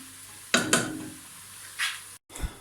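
Chicken and pasta frying in a pan over high heat, with a faint steady sizzle broken by a few sharp stirring and scraping clicks against the pan, close and quiet.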